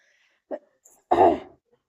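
One person coughs or clears their throat during a history lesson on Prithviraj Chauhan, a short catch followed by a louder harsh burst, close and alone in silence.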